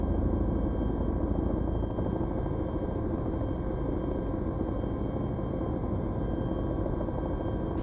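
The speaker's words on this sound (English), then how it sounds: "The chopper's whipping for me so hard." A Chinook helicopter in the Arma 2 video game gives a loud, steady rotor thrum and engine roar that run unbroken through the whole clip, close and without talk.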